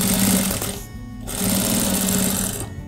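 Sewing machine stitching leather edging onto an embroidered fabric kerchief, two fast mechanical bursts split by a short pause, loud and close with no talking.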